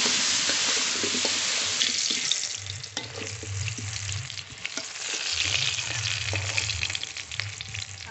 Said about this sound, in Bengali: আলু ভালো করে ভেজে নেব